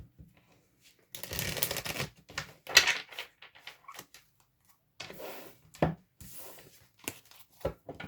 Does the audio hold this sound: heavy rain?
no